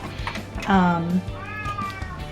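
A cat lets out one clear, drawn-out meow up close, followed by a softer second meow, with faint background noise.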